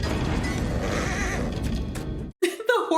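A horse gives a loud whinny right at the end, following a stretch of dense, noisy background sound and a brief silence, from the film Army of Darkness (1992).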